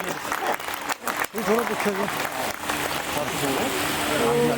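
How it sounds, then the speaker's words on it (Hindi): Applause from an audience at a book release ceremony during a fertilizer awareness camp, a dense sustained clatter of clapping with voices talking over it throughout. "आप सबसे आग्रह है कि तालियां बजाएं।"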